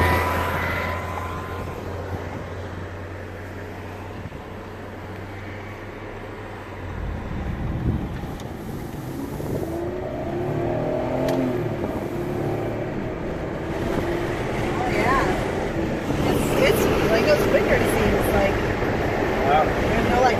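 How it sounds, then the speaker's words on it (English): A 2010 Ford Escape with a 3.0L engine, just after an engine flush and oil change, accelerating on a highway. A low engine drone and road rumble swell steadily louder over the second half, with people talking inside the cabin. "Highway, she's going to give it a little gas."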